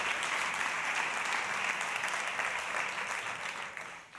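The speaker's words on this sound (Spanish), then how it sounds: "Un aplauso." A conference audience applauds a panel participant at an education event, a dense, steady wash of many hands clapping that holds at full strength before easing off at the end.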